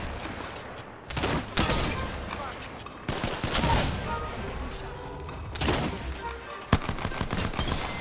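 Repeated gunfire bursts from Apex Legends, a first-person shooter video game, crackling loudly in rapid fusillades with short gaps between volleys, dense and close.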